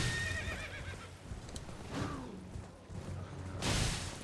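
A horse neighs and whinnies in Elden Ring, a loud close call with wavering pitch, followed by soft hoof clip-clops and whooshing game ambience.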